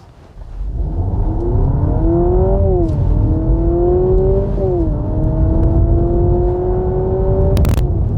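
A 2022 Honda Civic hybrid engine accelerates with a rising drone that drops in pitch twice as it mimics gear shifts, then climbs again. The sound is close, steady and loud, with no talking.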